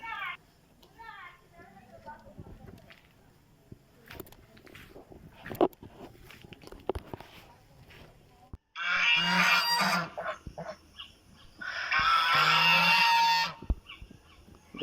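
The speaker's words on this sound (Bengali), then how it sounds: "রাজহাঁসের ডাকটা একদম অদ্ভুত প্রকৃতির, পাতিহাঁসের থেকে সম্পূর্ণ আলাদা।" Geese in a quiet rural spot near Jhilimili in Jhargram give two long, loud bursts of harsh honking after a stretch of soft rustling and footsteps.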